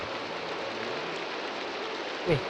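Steady rain falls in a video game set in an early era, a constant even hiss with no voices and a brief low thump near the end.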